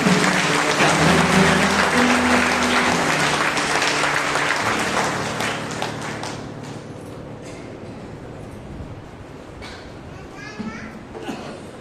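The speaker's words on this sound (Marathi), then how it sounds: "प्रभू येशूला आपण मोठ्याने टाळ्या वाजवूया" A church prayer-meeting congregation applauding loudly for Jesus, with dense clapping that fades after several seconds into background chatter with children's voices.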